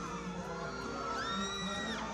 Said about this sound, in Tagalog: Dumadagundong ang hiyawan kapag nakakadaupang palad ng paboritong GMA stars